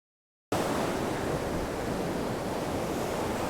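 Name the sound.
ocean surf waves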